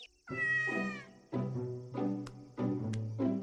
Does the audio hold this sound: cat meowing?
yes